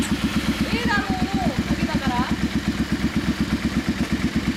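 A 1997 Yamaha DragStar 400 motorcycle with a slash-cut exhaust idles close by in a steady, loping low thump, while a voice is heard briefly over it.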